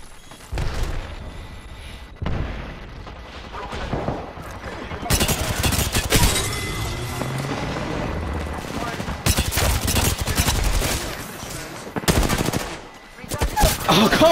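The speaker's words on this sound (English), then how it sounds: "I am taking fire." Rapid automatic gunfire from a shooter video game, loud bursts that come and go over most of the stretch, mixed with booming impacts, with players talking under the shooting.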